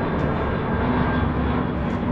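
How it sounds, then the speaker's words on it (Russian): An airplane flying overhead at a seaside resort in Sharm El Sheikh, Egypt, giving a steady, fairly loud jet roar throughout with no talk. "Самолет."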